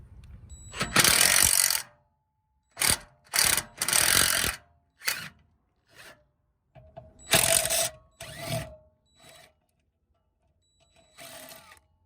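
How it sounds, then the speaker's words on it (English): Metal jack mechanisms being worked off a pop-up camper, several bursts of ratcheting, grinding clatter separated by pauses, some long and loud, others brief and quieter, with no talk. "I'm going to take 2 of the jacks off of the pop-up camper, because we added these extra Harbor Freight jacks on"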